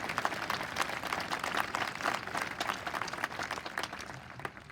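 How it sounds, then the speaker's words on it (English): Applause for faculty and staff at the Augusta Prep 2023 graduation ceremony: a large audience claps steadily and densely, a continuous, moderately distant wash of hand claps with no pause throughout. "Everyone, a round of applause for our faculty and staff."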